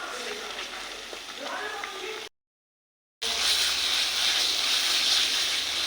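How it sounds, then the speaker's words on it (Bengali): Poppy seeds fry in a pan for a Bengali potol posto dish, giving a steady, close crackling sizzle that cuts out briefly and then returns louder and brighter. "দু মিনিটের মতো পোস্তটাকে ভেজে নেব।"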